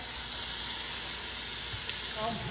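Onions, peppers and garlic cook in butter in a pan for homemade spaghetti sauce. A steady, even sizzle hisses throughout, close and loud, with a faint stir near the end.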